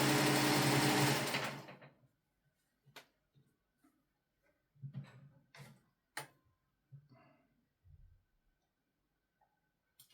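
A Singer 401 sewing machine with a thread tension problem runs a short, loud burst of fast whirring stitching, then stops. Scattered quiet clicks and handling noises follow.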